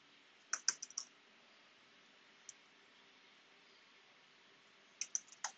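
Someone types a command on a computer keyboard. It is quiet and close, with a short burst of key clicks, one lone tap, then another quick burst over faint room hiss.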